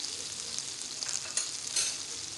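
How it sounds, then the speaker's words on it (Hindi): Chicken browns with ginger garlic paste in a hot pan, giving a steady, fairly quiet sizzle and frying crackle with a few stirring scrapes close by, no voices over it. "चिकन ब्राउन हो गया है तो आप ऐड कर देते हैं अदरक और लहसुन का पेस्ट।"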